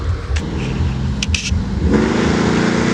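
Chevrolet Camaro SS V8 on a two-step launch limiter, a steady loud engine drone that swells into a harder, rising rev near the end, with brief hissy bursts partway through.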